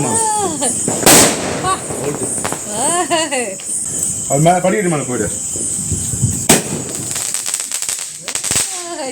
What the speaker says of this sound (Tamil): நாலஞ்சு பட்டாசு வச்சுட்டா வைக்கிறாங்க நல்லா ஜாலியாக வேடிக்கை பார்க்குறோம்